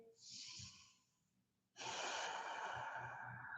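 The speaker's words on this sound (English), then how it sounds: "Strong Ujjayi breath here." Ujjayi yoga breathing, a soft ocean-like hiss on the inhale followed by a short pause and then a louder, rushing throat-constricted exhale, close and alone.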